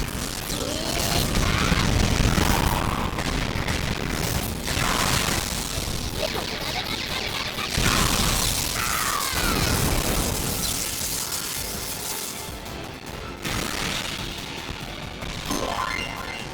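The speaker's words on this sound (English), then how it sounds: "Try using a burst attack." Booming, crashing explosive hits and bursts from a Pokkén Tournament fighting-game burst attack, loud and dense, with repeated impacts and rumbling blasts layered over game music for an extended stretch.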